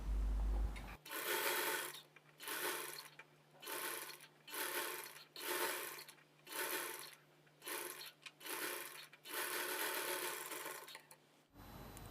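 A sewing machine stitches the folded neckline edge of a dress in about eight close, loud running bursts separated by short pauses, with no voices.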